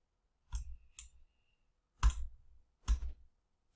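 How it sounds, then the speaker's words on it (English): A computer mouse gives four sharp, separate clicks, close and fairly loud, spaced unevenly over a few seconds in an otherwise quiet room. "Click continue."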